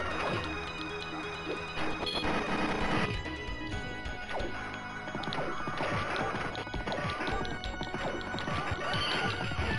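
Horse neighing and clip-clopping hooves in a Capcom arcade beat 'em up game, mixed with crashes, hits and busy game music and effects throughout.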